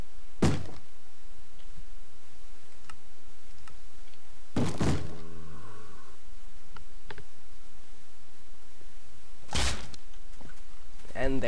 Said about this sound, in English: You can actually hear him trying to break down an iron door.